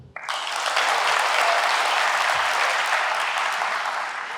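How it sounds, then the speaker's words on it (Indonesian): University students in a hall burst into applause on cue, a loud, dense, sustained wash of clapping that holds steady for several seconds. "Coba tepuk tangan."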